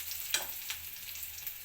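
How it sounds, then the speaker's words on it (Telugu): Tempering sizzles in a pan with a constant soft hiss, marked by two quick metallic taps from stirring near the start; no one speaks. "పోపు పెట్టుకున్నాను పళ్ళానికి"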